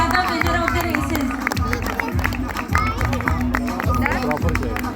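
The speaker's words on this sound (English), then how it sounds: "Please give huge round of applause for Nadia's parents." At a kindergarten sports day, a crowd of parents and children claps and cheers with rhythmic bursts, close and loud, mixed with chatter and voices throughout.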